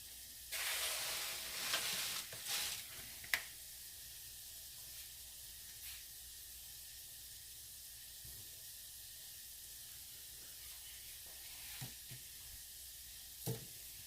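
Mushrooms hitting a hot pan with a loud burst of sizzle and clatter, then settling into a steady, quieter hiss with occasional light stirring taps.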